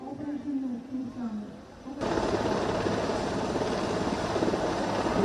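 A Chetak helicopter flying at low altitude during a naval exercise off Visakhapatnam: a dense, steady rotor roar cuts in loudly after a brief stretch of voice and continues unbroken.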